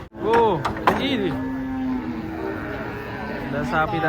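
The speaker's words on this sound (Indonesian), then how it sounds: "ada sapi dan kambing guys" Cows moo loudly and nearby as they are unloaded from a colourful truck, with a few drawn-out calls and truck noises in between, and a voice is heard briefly.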